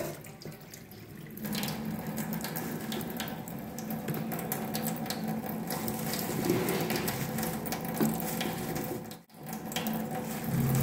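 Tap water running steadily into a kitchen sink while new potatoes soak to loosen their soil, a continuous close splashing flow with a brief drop near the end.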